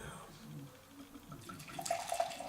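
Homebrewed abbey ale being poured into a glass, a soft liquid trickle and light splashing that builds toward the end, quiet and close under faint background noise.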